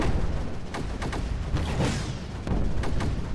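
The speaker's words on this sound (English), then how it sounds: "Set off the explosions in this area." Explosions go off in the video game Creeper World 4, a rapid series of booming blasts and pops, some clustered, with a swelling rush in the middle, loud and without talk.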